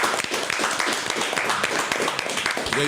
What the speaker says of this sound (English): let's not even go any further without just giving a round of applause to both of them